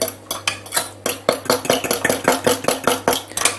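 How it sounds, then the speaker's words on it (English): Yeast mixture for gluten-free bread being stirred in a bowl, a quick regular series of close clinks and scrapes from a utensil against the bowl, with no talking. "So I'm going to give this a stir"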